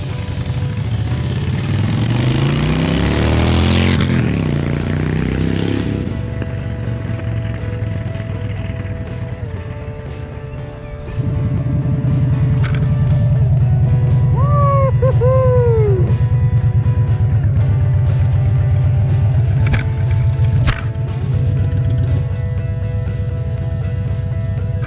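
A Honda Fury motorcycle with a new STG 2-into-1 exhaust roars past in a loud, sweeping drive-by, then a lower engine rumble carries on steadily.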